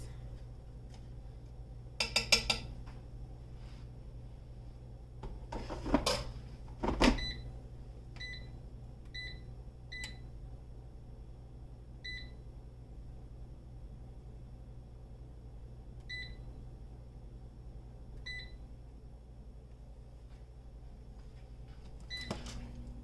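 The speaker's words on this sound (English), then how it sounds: "I'm going to put them back in the air fryer for another 6 minutes at 375 degrees" Air fryer being loaded with Brussels sprouts and set: a few clattering knocks of the basket, then a string of short regular electronic beeps as the timer and temperature are set, over a steady low hum.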